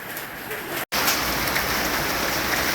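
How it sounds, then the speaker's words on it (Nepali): Dense, loud rain with hail pours steadily in Birtamod, Nepal, broken by a brief instant of silence, with a constant rushing patter of hailstones striking surfaces. "आज गजबले परेको छ असिना सहितको पानी"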